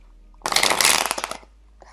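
A tarot deck is shuffled by hand in one quick riffling burst of papery flutters lasting about a second, close and fairly loud, with silence before and after.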